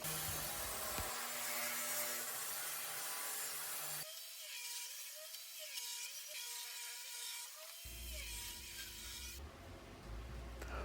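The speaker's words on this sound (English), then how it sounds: "I'm starting out with some maple and some walnut, cutting strips at 2 inches wide." A saw cuts 2-inch-wide strips of maple and walnut, a loud, harsh, steady whirring rasp with abrupt starts and stops between separate cuts.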